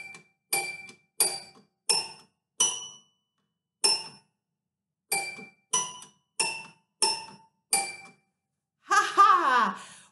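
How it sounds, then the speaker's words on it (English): A simple tune played on the three black keys of a piano: about eleven separate, ringing notes in a steady, unhurried rhythm with short gaps, fairly close and clear, then a brief warbling vocal sound at the very end. "the fun thing about the piano is wherever there's a group of three black keys, you can find and play this song"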